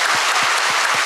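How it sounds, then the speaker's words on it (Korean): Church congregation applauding after new members are confirmed at a Sunday service, with steady dense clapping that fills the room and has no talk over it. "역시 박수로 축하해 주시기 바랍니다."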